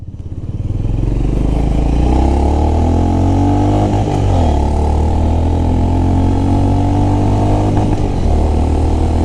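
Honda CB350RS motorcycle pulling hard through its gears, a loud close engine roar climbing in pitch, dipping briefly at each shift, then rising again.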